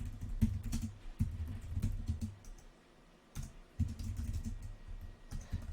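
Rapid clacking keystrokes on a new computer keyboard come in quick bursts, broken by a brief pause, close and crisp with no talking.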